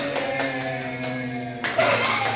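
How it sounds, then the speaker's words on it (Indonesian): A classroom group claps hands together during a micro teaching lesson, several loud bursts of clapping with a steady tonal hum underneath. "Beri tepuk tangan dulu"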